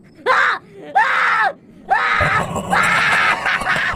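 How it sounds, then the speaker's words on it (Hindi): In a Hindi horror story, a woman lets out several loud, drawn-out screams of terror separated by short gaps. The last cry runs longer and is rougher. "निर्मला ने जैसे ही पीछे पलट कर देखा तो उसके गले से चीख निकल गई"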